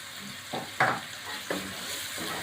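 Green chillies fry in a pan for lamb white pulao, a soft sizzle broken by a few scraping stirs at irregular intervals, fairly quiet and without talk.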